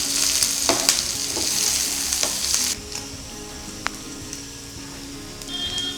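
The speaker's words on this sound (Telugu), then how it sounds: "ఆనియన్స్ వెల్లుల్లి గోల్డెన్ బ్రౌన్ కలర్ వచ్చేంత వరకు కొంచెం ఫ్రై చేసుకుందాం." Onions and garlic sizzle in oil in a pan while a spicy onion chutney is cooked, a loud steady crackle that drops to a softer fry partway through, with occasional stirring clicks and no talk.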